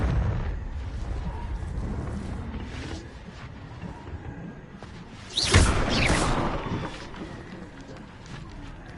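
A Confringo blasting spell from the Hogwarts Legacy video game bursts in a sudden whooshing explosion midway, rising over a low continuous rumble of game ambience and fading into a lingering tail.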